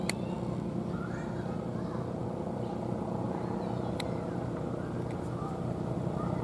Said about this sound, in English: Helicopter approaching the area.